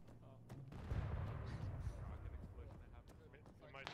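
Booming tank fire in the Arma military game rolls in from the distance, a low muffled blast followed by a long rumbling tail, with radio-style chatter from players and scattered battlefield noise around it.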